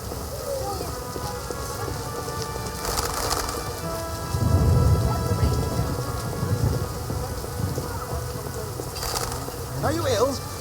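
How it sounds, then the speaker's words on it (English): Steady rain patters on surfaces while rolling thunder rumbles through, with a louder peal midway and brief birdsong; a voice speaks over the storm. "Must it rain right now?"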